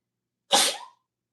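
A single sneeze, loud and close, a sharp burst that trails off quickly into silence.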